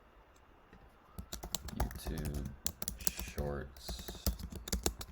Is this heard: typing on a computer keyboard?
yes